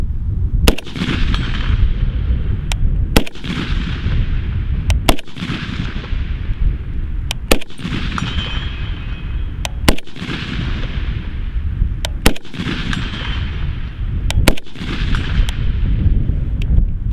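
Rifle with a muzzle brake fired seven times at steady intervals of about two seconds, each shot a sharp, loud crack with a long ringing decay, over constant outdoor background noise and no talking.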